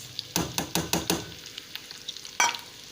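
Chopped onions for a chicken do pyaza curry sizzle in a pan, broken by a quick run of close, rhythmic scraping stirs and one louder clatter near the end.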